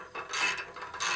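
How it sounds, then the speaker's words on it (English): A 10 millimeter socket on a ratchet tightening bolts on a Chief Products off-road bumper for a WK2, giving short, quiet rasping clicks in two or three quick bursts, close up. "I'm using a 10 millimeter socket and an Allen wrench here"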